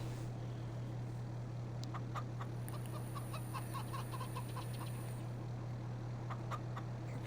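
Chickens cluck and squawk in a Farming Simulator 22 farm scene, a run of short calls layered over a steady low drone, with a thin high whine appearing partway through.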